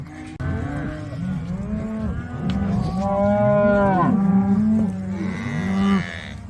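Calves and cows mooing over and over during sorting on a cattle sale day, many overlapping loud bellows and lows from several animals close by, continuous through the clip.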